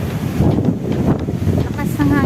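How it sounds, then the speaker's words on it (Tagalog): Strong wind during a dust storm, a loud, gusty roar buffeting the microphone in uneven surges, with a person talking over it. "Lakas ng hangin."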